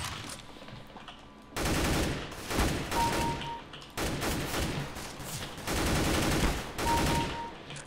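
Bursts of automatic M4A4 rifle fire from the game CS:GO, several loud sustained volleys separated by short pauses, with no talking.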